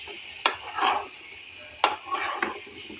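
A spoon stirs and scrapes pumpkin and prawns in a pan, giving two sharp knocks and soft rubbing scrapes over a faint sizzle, with no voices.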